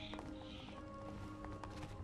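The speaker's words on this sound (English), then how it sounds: "Sound like a horse, JD." Horse galloping in the video game Fortnite, a steady run of hoofbeats under a dense game soundscape, with faint voices at times.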